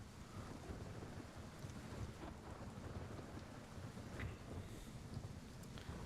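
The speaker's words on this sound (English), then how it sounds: "Storm sounds sick." Storm wind in the video game Gray Zone Warfare roars steadily for the whole stretch, a dense, loud wash with rain-like hiss and low rumbling, with no talking over it.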